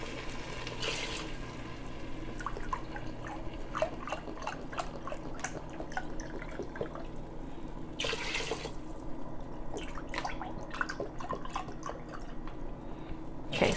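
Vegetable broth pours into a pot for a vegan lentil soup, a steady trickling liquid flow with drips and small splashes running throughout at close range, with no talk.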